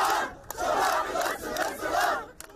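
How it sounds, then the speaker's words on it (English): A large outdoor crowd at Damascus Gate in Jerusalem chants slogans in loud, rhythmic, surging waves during a tense street demonstration, close and continuous. "this crowd behind me chanting slogans"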